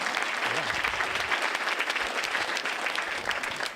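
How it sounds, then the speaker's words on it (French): Hearty applause rises from an audience at a science fiction film screening evening, a thick, continuous patter of many hands clapping close by with no pause throughout. "on peut applaudir"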